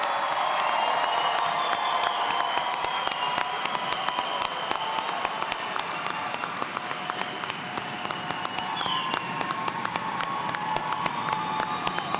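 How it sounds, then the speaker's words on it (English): A large graduation ceremony crowd applauds the class of 2025, sustained dense clapping with scattered cheers and whoops, heard at a distance in a big hall and steady throughout. "Let's give a round of applause to the entire class of 2025."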